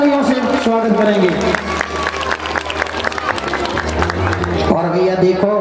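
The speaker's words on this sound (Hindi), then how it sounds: "जोरदार तालियों से स्वागत करेंगे" Sustained applause rises from a crowd at a Bhagwat Katha gathering, steady clapping running throughout beneath someone speaking, along with tonal musical sounds in the mix.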